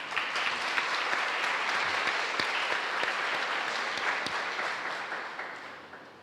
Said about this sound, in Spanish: quiero pedir para ellas un aplauso especial